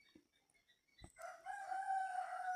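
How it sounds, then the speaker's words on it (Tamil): A rooster crows once, faint and somewhat distant, rising into a long drawn-out call after a couple of soft knocks, with no talk over it. "நாங்கள் அந்த சத்தமும் இணைத்து அது சேவல் என்று சொல்கிறோம்"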